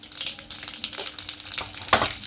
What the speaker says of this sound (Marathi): आता हे तेल काढून घ्यायचं आपल्याला आणि यातच फोडणी करायची